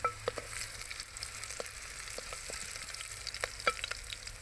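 Chopped green chillies fry in a clay pot with a soft, steady sizzle, broken by scattered small pops and spatters. The sound is quiet and close, with no talking.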